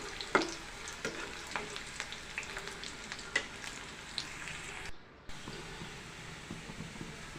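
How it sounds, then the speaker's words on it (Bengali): Chicken skin frying in a pan for a mung dal dish, with a steady crackling sizzle and occasional louder pops and stirring scrapes, pausing briefly near the end. "কিছু সময়ের জন্য আমি ভেজে নিচ্ছি একটু।"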